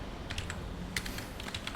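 Quick, light keystrokes on a computer keyboard, several soft clicks in an uneven rhythm, faint and close in a quiet room.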